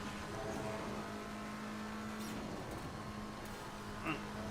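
A race car in a racing game held flat out through a corner, its engine a steady, continuous drone at an even pitch with a faint tire note, under a voice talking over it.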